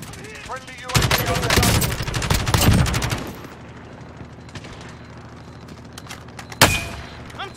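Automatic weapon fire and explosive bursts in Call of Duty Modern Warfare Warzone, a loud cluster of rapid shots followed by a quieter lull and one more sharp blast, with radio-style game announcer voices heard in between.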